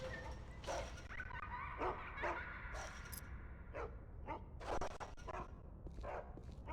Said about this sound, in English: Ghost sniffing dogs